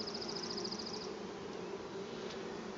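Honeybees hum steadily and densely over a frame lifted from a hive during the first spring opening, a close, continuous buzz with a brief higher whine near the start and no talking.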